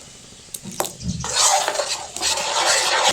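Mango kasundi stirred in a pot with salt, turmeric and sugar, a few light utensil knocks followed by a loud, close, wet scraping and sizzling churn.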